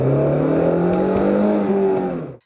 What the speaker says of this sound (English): rev your engine higher every now and then